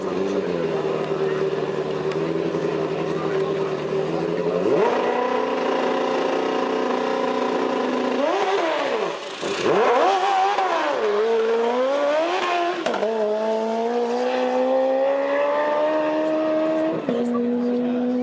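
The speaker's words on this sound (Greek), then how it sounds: "μπαίνει ο Αποστόλου, τρέχει με ένα μηχανάκι το οποίο το δοκιμάζει για πρώτη φορά." Super Pro class drag racing motorcycle with a wide rear wheel, ridden for the first time at a drag day event, its engine droning and revving steadily throughout, rising in pitch through runs, loud and close.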